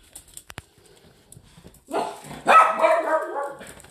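Barky the dog lets out a short run of loud, close barks and yips, clustered near the end after a few faint knocks and rustles.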